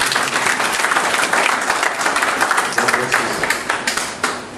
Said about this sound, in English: I want you to give a clap up into the Lord.